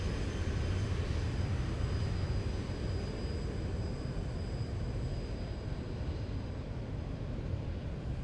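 Steady, loud jet engine drone of a JAL Boeing 737-800 cruising in flight in X-Plane 12, a continuous broadband roar with a faint high whine and no talking.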